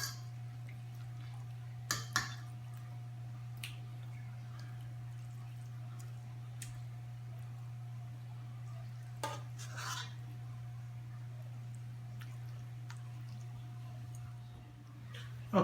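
Spoon scraping and dabbing ground beef and sauce mixture onto a rigatoni pie, a few soft clinks and wet scoops at close range over a steady hum.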